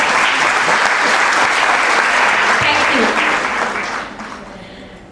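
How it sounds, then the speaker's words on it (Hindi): Applause from an audience in a hall at a seminar in Kanpur, loud and sustained dense clapping that fades near the end, with a brief spoken thanks over it. "आप लोग अपनी तालियों से सर को धन्यवाद दे सकती हैं"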